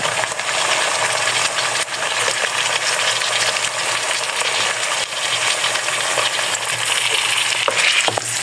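Chicken meat frying with onion and garlic-ginger paste, a loud, dense and continuous sizzle with occasional stirring scrapes and clinks close up, no speech.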